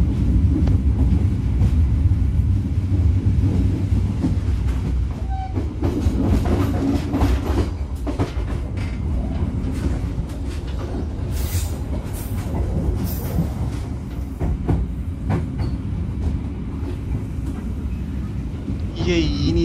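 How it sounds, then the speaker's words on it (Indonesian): Passenger train on the Bogowonto line decelerating into Yogyakarta station, a steady low rumble of wheels and carriage with faint clicking and a brief brake squeal, heard from inside the car with voices in the background. "akhirnya kereta akan segera berhenti di stasiun Yogyakarta"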